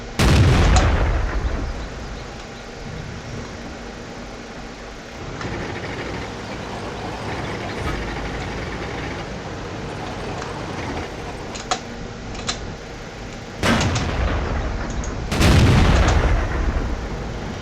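A tank cannon in World of Tanks: heavy booming shots, one at the start and two more near the end, with rumbling engine and battle noise between them.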